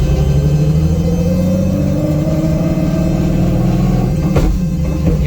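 A 2JZ-engined Nissan S14 accelerating under throttle, its engine note climbing steadily in pitch as a loud, continuous drone heard from inside the car, with no talk.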